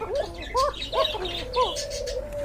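Pigeons for sale at a market stall call in short repeated rising coos and chirps, about four close phrases in a row, fairly loud over a low background murmur.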